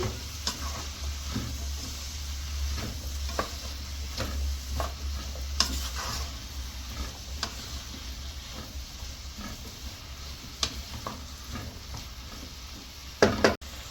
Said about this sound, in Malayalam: നന്നായിട്ട് ഇളക്കി കൊടുക്കുക ഇത് വേവാനൊന്നും നിൽക്കേണ്ട ജസ്റ്റ് ഒന്ന് വാടിയാൽ മാത്രം മതി